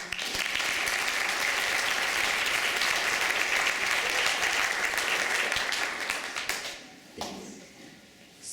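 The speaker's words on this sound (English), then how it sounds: "a round of applause for them" Applause at a high school jazz band concert on senior night, a dense, steady round of clapping from the audience that carries on for several seconds before thinning out and fading near the end.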